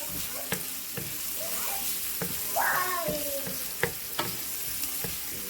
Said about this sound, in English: I have about a half a cup of that pork sausage cooking in here